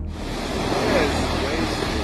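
Ocean surf crashes onto a beach with a continuous, loud, broadband roar and wind buffeting the microphone, steady throughout with no clear break between waves.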